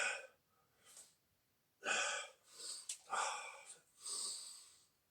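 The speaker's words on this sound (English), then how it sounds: "See, breathing." Sharp, forceful exhalations during a Kung Fu workout come in several separate bursts, loud and close, with quiet gaps between them, like deliberate breathing through the nose and mouth.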